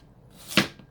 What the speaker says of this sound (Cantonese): 我哋就切片啦